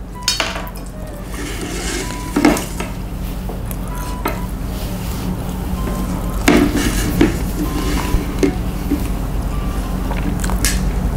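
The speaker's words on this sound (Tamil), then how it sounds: "மூடி சத்தம்" A pot or container lid clatters and clinks amid dish and utensil handling, with a few sharp metallic knocks standing out over a continuous low background hum.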